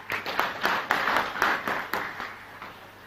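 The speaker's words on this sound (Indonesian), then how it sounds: "Tepuk tangan untuk UT." A graduation ceremony audience at a university gives several seconds of scattered applause, individual claps standing out in loose bursts that thin out toward the end.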